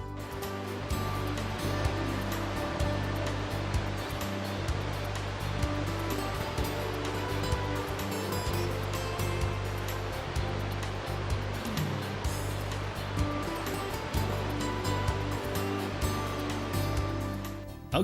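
Cascading river water leading to Elk Falls on the Campbell River amid old-growth forest, a dense, steady roar of rushing water with no breaks, full and close.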